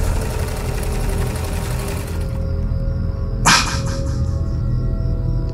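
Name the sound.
sewing machine sound in a radio horror story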